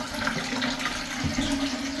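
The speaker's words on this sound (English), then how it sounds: "So just gonna flush the toilet now. That's the water draining." A toilet being flushed, with water rushing and draining steadily and up close for the whole stretch, alongside a low hum, during work on fixing a leaking Ideal Standard toilet.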